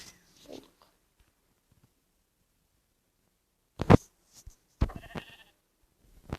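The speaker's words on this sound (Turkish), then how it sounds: "Koyun." Mostly quiet, then a few short bleats from a Minecraft sheep, close and a bit synthetic, with brief gaps between them.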